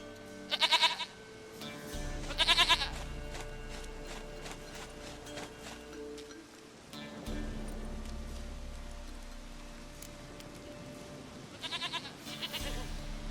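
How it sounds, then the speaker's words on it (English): A goat in The Witcher 3: Wild Hunt bleats three times, twice close together early and once near the end, loud and near over a low ambient rumble. "Goat of mine, dearest,"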